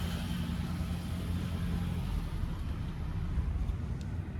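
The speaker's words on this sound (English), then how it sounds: "In terms of the idle sound" A 2013 Toyota Prius engine idles quietly and steadily with the bonnet open, a low, even hum and no revving, continuous throughout.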